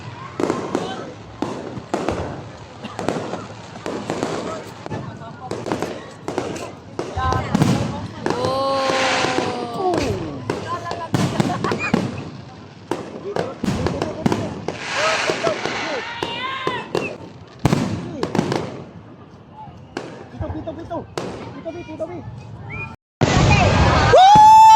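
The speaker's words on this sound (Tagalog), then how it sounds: "Fireworks!" Repeated fireworks crackle and pop in bursts, with whistling rockets rising, while a crowd chatters and cheers throughout a grand fireworks display at the Sinulog festival.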